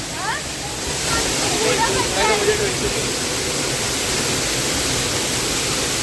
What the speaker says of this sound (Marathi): नॅचरल पाणी